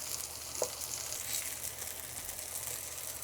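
Eggplant fries in a pan with an even, hissing sizzle that holds steady throughout, close up, with a faint stir or clink near the start and no voices.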